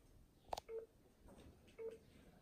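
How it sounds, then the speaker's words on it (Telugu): A mobile phone being dialed during a call: a few short keypad tones and faint ringing beeps sound quietly and close, spaced out over a low room hiss, with no talking. "నీ ఫోన్ నుంచి కాల్ చేయి."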